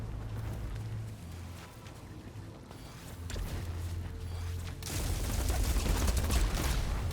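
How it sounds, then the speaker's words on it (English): Gunfire in Returnal, fired at walls: repeated sharp shots and bursts over a low droning hum, growing louder and denser near the end. "I'm just shooting walls."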